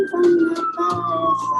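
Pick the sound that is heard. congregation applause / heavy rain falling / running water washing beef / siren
siren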